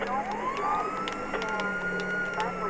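A police car siren wails in Grand Theft Auto 5 on a tablet, a rising then wavering electronic tone over engine and game noise, loud and close, with a voice talking briefly over it.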